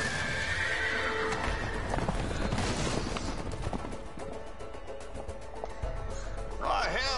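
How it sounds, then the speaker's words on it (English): Horses in the video game A Way Out gallop with rapid clip-clopping hooves and loud whinnies, close and busy, with scattered gunfire-like cracks and voices speaking over the scene. "the horses are escaping, honey"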